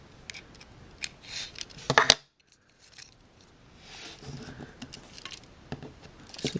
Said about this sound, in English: you get a coin and you just unscrew it